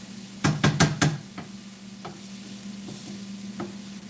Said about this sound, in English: now we're cooking the fluid out of the mushrooms, so they are a bit on the dry side